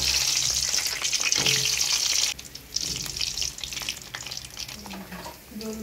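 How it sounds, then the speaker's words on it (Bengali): Rolls and onions fry in hot oil, giving a loud, continuous sizzle and crackle close by, with brief stirring scrapes and a short dip in intensity partway through. "রোল বাজা হইতেছে, আর এদিকে পেঁয়াজগুলো বাজা হইতেছে।"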